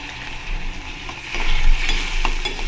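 Masala paste for masala lemon rice sautéing and being stirred in a pan, a steady close sizzle with scraping stir strokes that grow louder midway, no talking.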